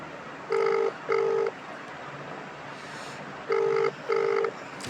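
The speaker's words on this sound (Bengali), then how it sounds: "রিং হচ্ছে দেখা যাক তোলে কিনা" A telephone ringback tone sounds in two double bursts, each pair of short buzzing tones separated by a long pause, over a faint background hum.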